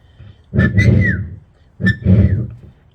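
A man whistles a distinctive two-part call, repeated twice with a short gap, each burst loud and close with a rising then sliding tone.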